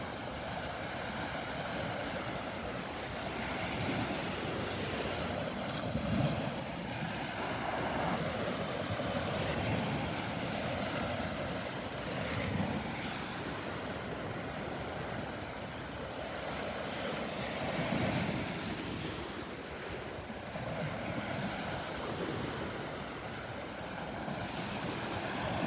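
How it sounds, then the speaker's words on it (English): Ocean waves rolling onto the beach at Delnor-Wiggins on a rainy morning; a steady, loud surf roar with slow swells and crashes, plus some wind noise, with no talk. "Just like watching the waves rolling in here under the tree"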